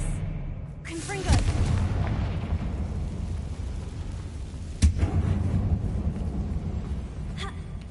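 Spell impacts in a wizarding-world video game: two sharp, booming explosive blasts several seconds apart over a low rumbling ambience, with a fainter crack toward the end.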